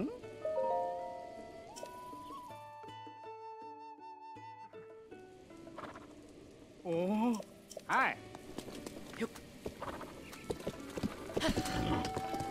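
The horse Epona trots in Zelda: Breath of the Wild, a rhythmic clip-clop of hooves alongside game music and effects, with someone talking over parts of it.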